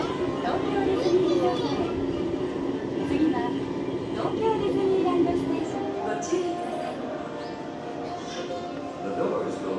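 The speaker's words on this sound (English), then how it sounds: "So waiting for the monorail. Here it comes." A monorail train at Tokyo Disneyland rumbles steadily while pulling in, with people talking, Christmas music and a busy crowd around it, fairly loud and continuous.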